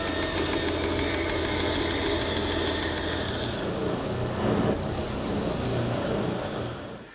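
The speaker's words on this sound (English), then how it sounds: "Here I've installed a 1/4 inch bit with a guide bearing on it, and I'll run the piece through flat" A router fitted with a quarter-inch bearing-guided bit shapes the edge of a wooden chair part, a continuous loud whining rasp that holds steady for several seconds, with a brief dip midway and no talk.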